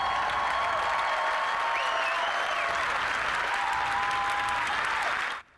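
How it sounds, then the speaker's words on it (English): A stage audience applauds Bill Cosby, 77, at his comedy show in Erie, Pennsylvania, with steady sustained clapping and scattered whistles that fill the room, then cut off abruptly near the end. "Cosby's still drawing applause when he hits the stage."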